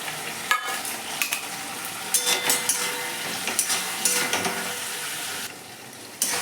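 Spiced chicken with Kashmiri chili powder is stirred in a pan, making repeated close scraping and clattering strokes over a continuous frying sizzle.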